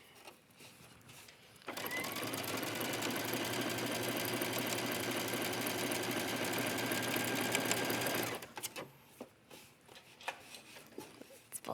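A sewing machine stitches a seam down along a fabric edge of a mesh-insert yoga top, its needle whirring in one steady run of about six and a half seconds, with quiet sounds before and after.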